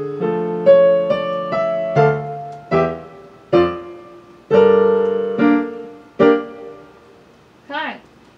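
Piano plays three measures of a jazz-style piece, a series of distinct chords and notes struck one after another with short gaps, some detached and staccato, ending on a quick rising flourish; no talking.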